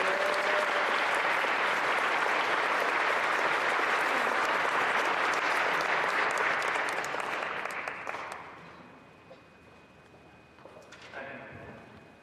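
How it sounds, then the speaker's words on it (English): Applause for graduates at a mortuary science graduation ceremony: a dense, loud roar of clapping holds steady for about eight seconds, then fades out, leaving quiet room tone with a few scattered claps and faint noises. "Let's give them a round of applause."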